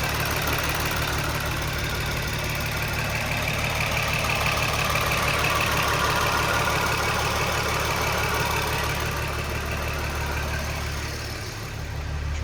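A Volkswagen Passat R36 wagon engine idles steadily and loudly, with a fast, faint tapping running through the low rumble.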